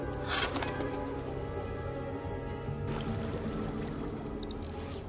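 Water sprays from a tank in the sci-fi adventure game Beyond a Steel Sky, a steady hissing spray running the whole time over a soft game ambience.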